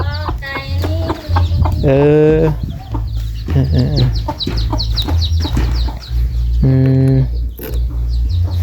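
Farm chickens cluck and squawk in repeated bursts close by, with a rooster-like call among them, over a steady low hum, while someone speaks briefly.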